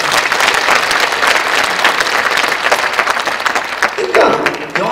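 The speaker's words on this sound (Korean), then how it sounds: "박수 한번 해." A church congregation applauds during a sermon on unity, a dense, loud, continuous wash of clapping that lasts throughout, with voices mixed in.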